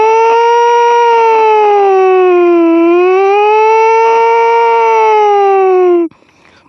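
A voice imitates a police car siren: a loud, sustained wailing tone rising and falling slowly for about six seconds, then breaking off abruptly.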